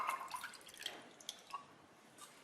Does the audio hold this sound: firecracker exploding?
no